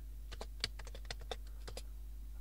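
Close, quiet keystrokes on a computer keyboard tap out a short irregular run of about a dozen clicks over a steady low hum, with no voice.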